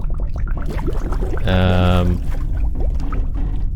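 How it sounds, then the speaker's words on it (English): Dirty water pours into a storage tank in the video game Forever Skies, a short, loud gushing burst of about half a second, set against a constant mechanical background hum. "Let's add dirty water in."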